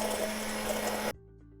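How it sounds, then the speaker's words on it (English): Stick blender whirring through panisse sauce as oil is poured in, a steady loud motor buzz that cuts off abruptly after about a second, leaving quiet room tone. "then you're going to go in with a stick blender"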